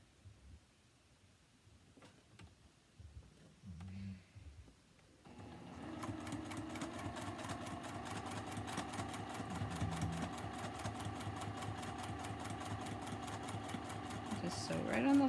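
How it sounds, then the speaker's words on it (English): After a quiet stretch with some talk, a sewing machine starts up stitching quilt pieces along a marked line, running steadily and fairly loud in a fast, even mechanical rhythm. "Just sew right on the line."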